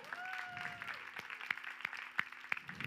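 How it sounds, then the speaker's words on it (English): Audience applause for student finalists at an air solution hackathon finale in Paris, moderate and steady with sharper individual claps standing out, after a short tonal sound at the start. "Please join me for another round of applause for our students."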